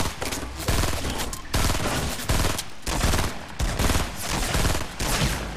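A gunfight in the video game Fortnite fills the clip with loud, dense bursts of rapid gunfire that come in repeated waves with brief gaps between volleys.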